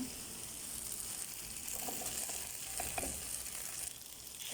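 Boiled pieces stirred in a pan with tomato sauce while cooking Saudi macaroni, giving a steady frying sizzle with soft scraping stir sounds throughout, close and moderately loud.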